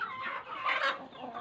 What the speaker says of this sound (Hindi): मैं छत पे आया था मुर्गियों को दाना पानी करने के लिए